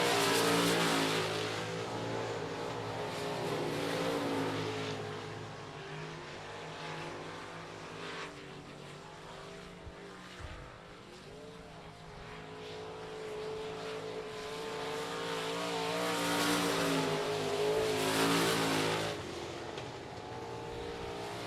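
Stock cars in a B factory stock race at I-37 Speedway roar continuously around the track, engines droning and swelling as the pack passes, loud and steady with no speech.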